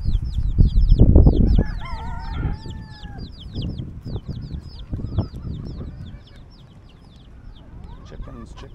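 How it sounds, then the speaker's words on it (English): Free-roaming chickens on Kauai cluck and chirp around an outdoor parking area, repeated short calls scattered throughout over low background rumble and some talking. "Chickens, chickens everywhere, chickens."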